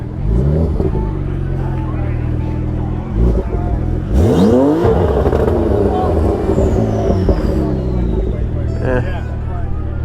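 A loud Kawasaki H2 motorcycle engine with a full exhaust system drones steadily, then revs sharply and climbs in pitch before settling, with crowd chatter and traffic noise at a Porsche meet.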